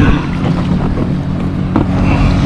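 A motorboat with a petrol engine passes near a kayak on the Lielupe River, its low engine drone loud and close against wind noise.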